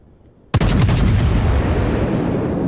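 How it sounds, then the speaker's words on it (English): A loud, sudden broadside from the battleship Bismarck in World of Warships booms out after near silence. The heavy gun blast rolls into a long, sustained rumble. "Gonna turn just enough to get the shot to Lexington with all 8 guns."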